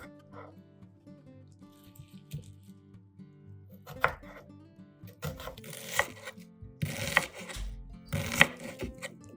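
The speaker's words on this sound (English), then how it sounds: "Finely chopped onion." Knife finely chopping onion on a board, a series of sharp, fairly close chops that grow denser and louder toward the end, with faint background clatter.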